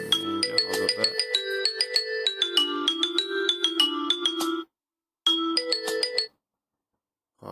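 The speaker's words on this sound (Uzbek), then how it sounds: "menga hozirda telefon kelib qoldi." A melodic phone ringtone plays a quick sequence of bright tones, stops briefly, then repeats a short burst before cutting off.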